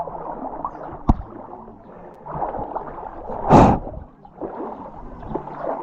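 Floodwater covering a highway, heard as a steady wash of moving water with a brief sharp knock and a louder splashing surge near the middle, voices faint in the background.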